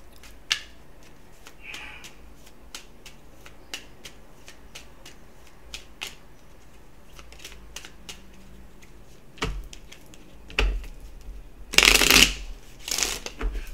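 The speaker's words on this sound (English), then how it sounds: "Let's get an Angel Whispers or Oracle card out here real quick." A deck of oracle cards is shuffled by hand, with scattered soft clicks and taps of cards early on and then dense, loud riffling bursts toward the end.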